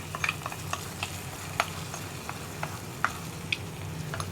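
Hot tempering poured into a coconut-free mango buttermilk curry (mambazha pulissery), giving a steady soft sizzle with scattered crackles and pops, fairly quiet and close, with no talking.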